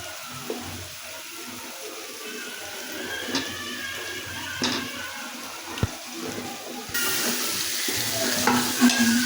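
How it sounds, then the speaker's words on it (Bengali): Potatoes frying for khichuri with rice and chicken in a pot, with a steady sizzle and occasional scraping stir strokes, close and continuous, and the hiss growing louder near the end. "আলু দিয়ে আলু কষানো হচ্ছে।"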